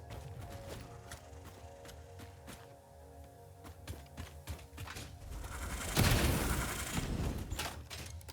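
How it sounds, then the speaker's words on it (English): Gunfire in Satisfactory: a run of sharp, fairly quiet shots ticking over mechanical creaks and hum, building to a louder burst of impacts near the end. "The fuck is shooting at me?"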